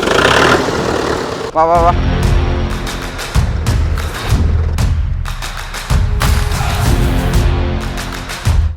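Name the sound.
tractor driving over large folded paper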